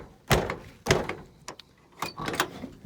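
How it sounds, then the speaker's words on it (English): A 1977 Chevrolet C10 pickup truck door swung shut but failing to latch, giving several loud hollow thunks in quick succession at close range, with no talking. "you go to close the door and see that it doesn't close all the way"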